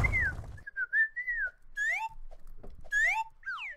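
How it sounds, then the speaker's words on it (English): Whistled bird-like calls in the video game Book of Monsters, rising and falling chirps and trills in short separate phrases, clear and close against near silence, with a brief burst of noise at the start. "It kind of sounds like me whistling."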